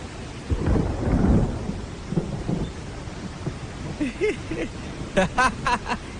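Rolling thunder rumbles through steady rain, the low boom swelling early and then fading, with a few sharp bird chirps near the end.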